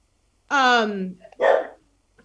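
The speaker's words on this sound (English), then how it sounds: "Excuse my dog in the background." A dog barks in the background indoors, giving two short, fairly loud calls about a second apart, the first drawn out and falling in pitch, the second a rougher bark.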